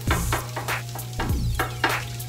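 Brown rice and vegetables sizzle in a hot pan while a utensil scrapes and stirs in a few repeated strokes, close up, with no voices.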